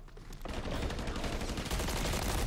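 Dense, loud gunfire in the video game Call of Duty, a continuous rattle of shots after a brief quieter start, close and filling the whole clip.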